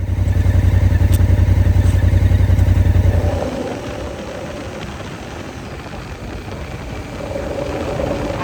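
Motorbike engine running on an autumn ride in Switzerland, a loud pulsing throb at first that drops to a steadier, rougher drone with wind-like rush.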